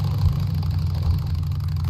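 Motorcycle engine in the video game Days Gone, a steady low droning hum at a constant pitch with no clear revving, heard alone throughout.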